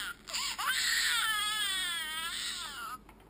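A voice imitates a baby's wailing cry: one long, loud, wavering sob rising and falling for about three seconds, close to the microphone.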